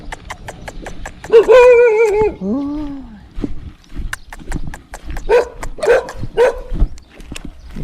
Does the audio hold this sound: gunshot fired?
no